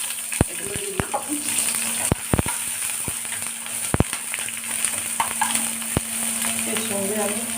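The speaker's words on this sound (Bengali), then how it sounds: "এইবার আমি তেলের মধ্যে পেঁয়াজ, লঙ্কা এগুলো দিয়ে দিচ্ছি।" Onion and green chili frying in hot oil in a pan, a steady close sizzle broken by sharp clicks and taps of a utensil against the pan.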